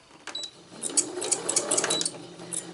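A sewing machine runs briefly on textile work with wire, its needle ticking through a quick burst of a few stitches, light and close, with no talking.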